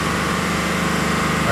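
Car exhaust held at steady revs during a California exhaust noise test with a 95 dBA limit, a loud continuous drone with no pauses or speech.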